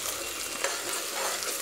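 Ginger garlic paste sautéing in a pan for chicken biryani makes a brief, continuous bright hiss with light stirring scrapes, close and steady with no one talking.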